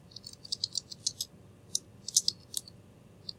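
Quick bursts of keystrokes clatter on a computer keyboard, with irregular clicks in short runs and pauses, close and fairly quiet.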